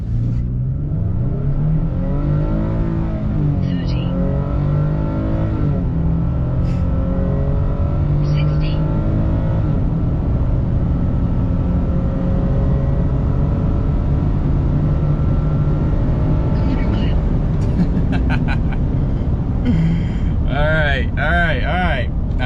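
Pickup truck with a naturally aspirated 3.8 liter V6 and 9-speed transmission accelerates hard, engine loud and sustained as it climbs through gears with audible shifts, heard from inside over about twenty seconds.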